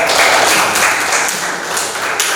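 A burst of applause from a class group, dense clapping that swells and fades slightly over a couple of seconds, fairly loud and close.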